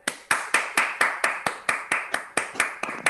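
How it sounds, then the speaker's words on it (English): A single person claps their hands steadily, about a dozen sharp, evenly spaced claps, close and clear in a quiet room. "I'm going to clap."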